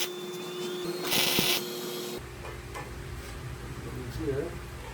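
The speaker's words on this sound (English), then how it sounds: "So I'll go ahead and weld that off." A bolt is welded onto a press tooling holder in a workshop, producing one short, crackling, sizzling burst of about half a second over a steady electrical hum, followed by quieter shop noise.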